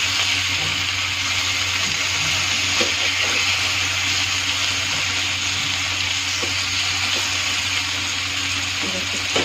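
Vegetable mash for barta sizzles and fries steadily in a pan at close range, with scraping and stirring as it is turned over in portions throughout.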